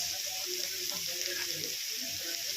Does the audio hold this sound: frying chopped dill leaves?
yes